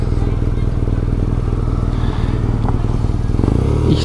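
Motorcycle rolling slowly past the Spinnerbrücke, heard from the rider's position: a loud, steady low engine thrum with wind rumble throughout, and a few faint clatters on top.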